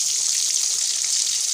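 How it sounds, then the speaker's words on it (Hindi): A little oil poured into a pan for frying fish, a soft continuous hiss and trickle, faint and steady throughout. "अब ये मैं इसमें थोड़ा सा ऑयल डाल रही हूँ"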